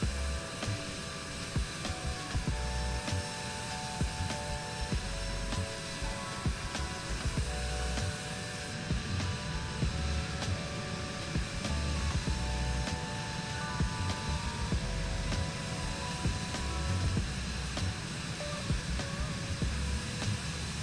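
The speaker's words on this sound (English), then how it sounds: "I'll turn down the engine sound a little bit" A Vision Jet G2 engine in Microsoft Flight Simulator gives a steady, moderate jet whine and hum with sustained tonal layers, continuous across the whole stretch with no speech.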